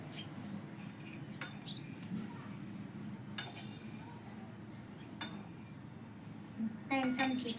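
A metal spoon clinks and taps against a tea pot as tea leaves go in on a gas stove, a few sparse light clinks over a low steady hum, busier clattering near the end.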